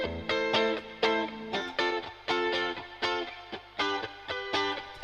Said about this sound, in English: this is a guitar without the sample delay on. I'm going to put it on.